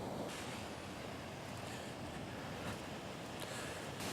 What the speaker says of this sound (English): I've now walked down to the second level of the waterfalls.